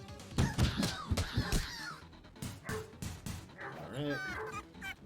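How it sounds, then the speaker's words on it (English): Neighbours' dogs bark repeatedly in the background in yipping, whining bursts that are fairly loud and run under and between a person talking. "Also, I apologize if you can hear the dogs in the background."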